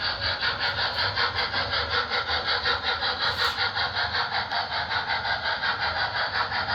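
A model railway locomotive plays through a single speaker in its tender, giving a steady, rhythmic rasping chuff that holds at a constant level as the train approaches.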